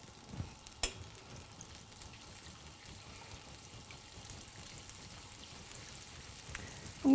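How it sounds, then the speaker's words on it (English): Tofu curry with tomato paste being gently stirred in a pan over medium-high heat, giving a soft, quiet sizzle with faint scraping and a couple of light clinks. "And we just very gently mix this all together."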